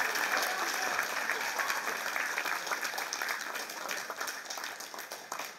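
An audience at a theatre event applauds strongly as two performers are called onto the stage, dense clapping that starts loud and gradually thins and fades over several seconds.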